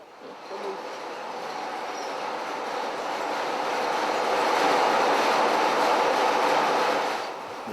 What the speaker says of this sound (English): Very noisy, you know, in a weaving shed when all the looms are running